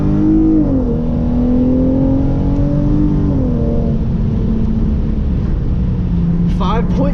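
A Hyundai Genesis Coupe 3.8 in sport mode accelerates hard from a standstill, its loud engine droning steadily and climbing in pitch, with brief drops at the gear changes.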